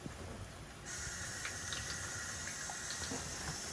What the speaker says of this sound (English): Now what I like to do is add a little bit of water.